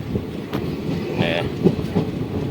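A passenger train running on a Gujarat rail line gives a steady, close rumble inside the carriage, with rhythmic wheel clacks and a brief whine, while faint voices murmur underneath.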